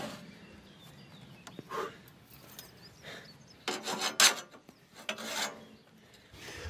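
Carpenters hand-saw timber propped on a sawhorse, producing quiet, irregular rasping strokes with brief pauses and a few sharper scrapes, close by and with no talking.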